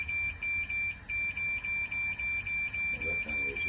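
A device sounds a steady run of short, loud, high-pitched electronic beeps in an even rhythm throughout, with faint voices and low background noise beneath.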